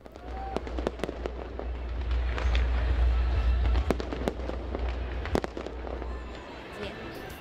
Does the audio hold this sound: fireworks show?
yes